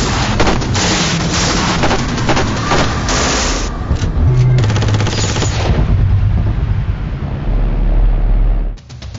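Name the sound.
Heckler & Koch M27 IAR rifle firing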